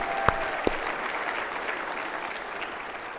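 Steady, dense applause from a large audience at a plenary session of the ASHRAE Annual Conference, a continuous wash of clapping with a couple of sharper bangs near the start and no voices.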